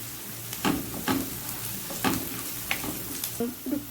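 Chopped onion in four tablespoons of oil browning over medium heat, a soft steady sizzle broken by several sharp clinks and scrapes of a stirring spoon against the pan.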